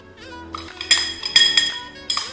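A spoon stirs yeast into warm water in a small bowl, giving light metallic clinks and taps against the sides in an uneven rhythm, close and fairly loud.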